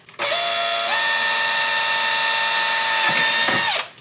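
A power drill bores a pilot hole into the dash of a 2008 Club Car DS gas golf cart, a steady loud whine running about three and a half seconds, pitch stepping up once and dipping near the end before stopping.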